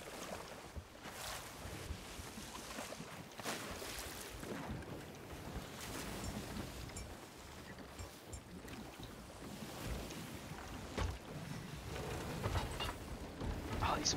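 Ocean waves and gusting wind wash around a sailing ship during a naval battle in a video game, a continuous surging swell with buffeting wind noise at moderate level and no speech.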